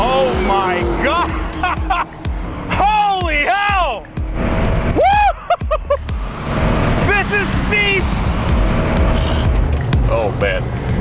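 A gas-guzzling 621-horsepower supercar on a warm-up lap, its engine a loud, continuous roar from inside the car, with excited voices talking over it almost throughout.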